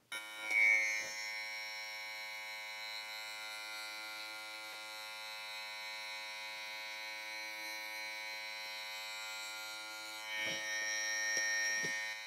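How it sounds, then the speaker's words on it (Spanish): An unmodified barber hair clipper buzzes steadily with a bright, tonal motor whine, close and continuous, with small bumps and brief scraping touches near the start and end. "cuando tú vas a intentar borrar la línea del trimmer con la máquina que no ha sido modificada"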